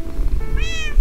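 A Minecraft cat gives a single clear, rising meow late in the moment, close and fairly loud over a low background rumble.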